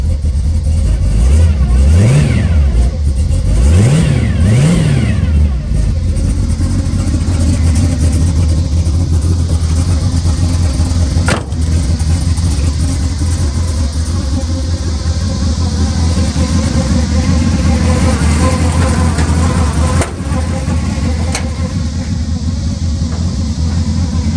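A 1969 Pontiac GTO clone's V8 engine with a gear drive, rumbling loud and close, revved several times early on with rising and falling pitch, then settling into a steady idle with a faint mechanical whine.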